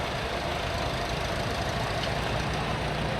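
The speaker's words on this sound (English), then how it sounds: "farmers enjoy that particular kind of tractor because it's smooth running" An inline-engine farm tractor at a cotton gin parade runs smoothly at a steady idle. It gives a faint, even rumble with no people talking.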